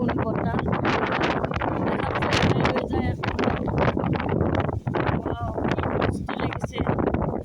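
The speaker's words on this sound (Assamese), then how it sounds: "কেনেকুৱা বতাহ আহিছে, ঘূৰি লৈ যাওঁ কৰিছে" Strong gusty wind with light rain buffets the microphone in a continuous loud roar while a person talks over it.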